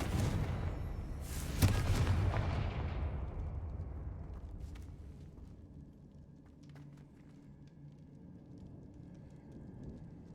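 Fire blast spell explosions in the Hogwarts Legacy video game, a loud booming burst near the two-second mark that decays into a rumbling tail, with fainter crackling impacts trailing off afterward.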